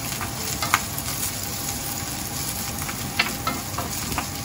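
Onions sautéing in a hot pan while Tonkotsu-style soup is made, a loud, dense, continuous sizzle with a few sharp crackles and pops, close up and with no talking.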